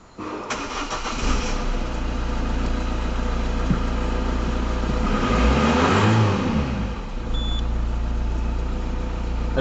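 A car engine starts during a vehicle inspection, then idles steadily and revs up once with a swelling roar before settling back, close and loud with no talk.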